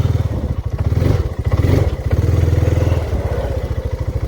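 A Honda dirt bike engine runs with its rear wheel spinning while the front brake is held, a steady mid-pitched motor drone with rapid regular pulses and some clatter, loud and close throughout.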